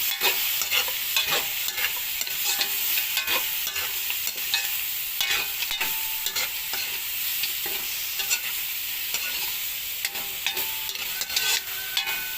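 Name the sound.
blood and liver being stirred and sautéed in a pan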